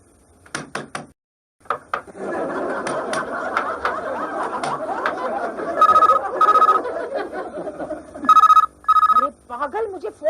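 A telephone rings in repeated bell bursts from another room of a home while a woman bathes behind a closed door, the rings cutting through ongoing talk and light knocking.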